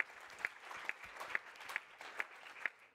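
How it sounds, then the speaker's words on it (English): Faint, thin applause from an audience at a UN climate change convention session, sparse claps with a few sharper hits landing at fairly regular intervals. "Give her a big round of applause,"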